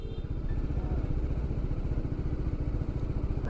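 A BMW G 310 RR single-cylinder motorcycle idles close by with a steady, fast, even thump that holds level throughout, and no one talks over it.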